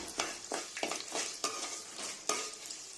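Dried red chillies and a few cashew pieces fry in oil for mango pulihora, a faint crackling sizzle broken by repeated light stirring scrapes against the pan, with no voices.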